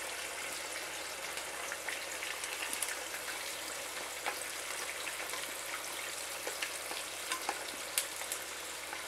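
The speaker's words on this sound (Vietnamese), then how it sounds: "Mình dặn lửa lớn mình chiên cho nó vàng hai mặt luôn." Food frying in a pan over high heat until golden on both sides, for a bitter melon hotpot. A steady, dense crackling sizzle runs throughout with no talking.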